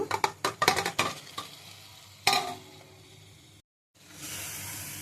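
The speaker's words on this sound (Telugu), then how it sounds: "ఇప్పుడైతే చేపలను వేసుకుందాం." Fish pieces dropped into a pan of sizzling tamarind masala: a run of stirring clatters and spatters up front, a sharp burst of sizzle midway, then a brief silence before a steady frying hiss returns.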